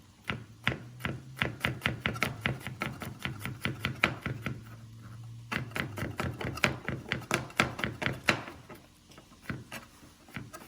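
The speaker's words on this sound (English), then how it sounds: "After this garlic, We just chop them." A knife chops garlic on a cutting board for French onion soup, a steady run of quick, close, sharp taps in uneven bursts with a short pause midway.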